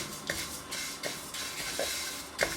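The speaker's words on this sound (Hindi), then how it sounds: "चमचा इसमें चलाते रहें" A spoon stirs revri mixture frying on medium flame, with soft repeated scrapes and clinks against the pan over a steady low sizzle, close and fairly quiet.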